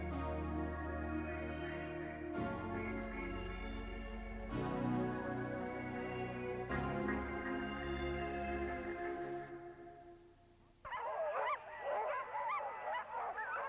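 A sled dog team at a checkpoint of the 1994 Copper Basin 300 race, with steady, close barking and yipping layered into a continuous chorus, then a sharper burst of excited dog calls near the end.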